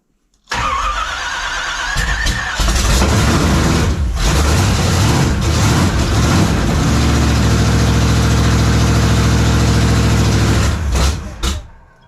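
An Oldsmobile Cutlass engine with a primed fuel line and a faulty idle circuit cranks with a whirring starter, then fires and runs rough and loud for several seconds up close before dying away.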